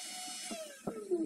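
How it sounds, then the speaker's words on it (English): A brief, high whine of a drill with a 3/16 inch bit boring through plywood, pitch sliding downward under load, with a couple of small knocks, close and fairly quiet. "Use a 3/16 inch drill bit and drill through the plywood."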